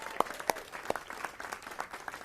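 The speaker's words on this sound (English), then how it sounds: "So just a round of applause for Jason and Alex." Sparse, scattered applause from a modest crowd at a transit fare-payment launch event, a few distinct claps standing out over a faint, thin patter.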